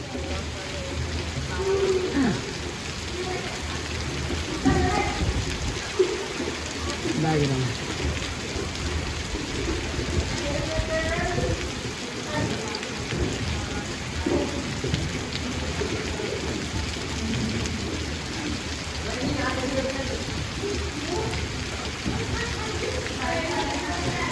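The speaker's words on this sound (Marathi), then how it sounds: "बाहेर मस्त पाऊस येतोय पांढरुण्यामध्ये" Steady rain falling outside in Pandharune, a dense continuous patter on surfaces, with people talking intermittently over it.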